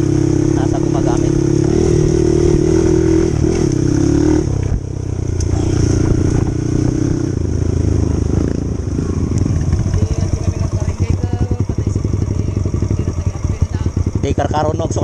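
A new model enduro motorbike engine runs loud and close, a steady hum at first, then a rough, rapidly pulsing clatter as it idles and revs, with someone talking over it.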